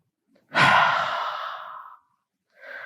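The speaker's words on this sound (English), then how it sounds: "One more deep inhale and exhale here." A deep, slow breath during a yoga session: one long audible inhale-exhale swell lasting about a second and a half, close and soft, followed by the start of another breath, with no talking.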